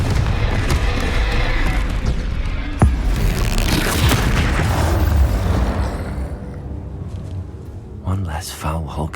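A dense, booming Confringo spell explosion in Hogwarts Legacy rumbles loudly and sustains heavy low-end roar amid combat clatter, fading slightly near the end.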